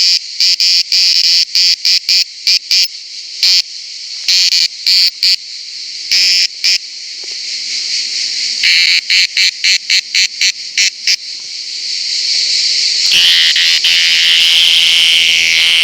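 A cicada sings loudly and close in a quiet outdoor spot near Brindisi or Otranto in southern Italy, its shrill buzz pulsing in rapid bursts before swelling into a continuous drone.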